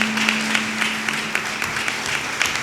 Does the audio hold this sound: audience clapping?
yes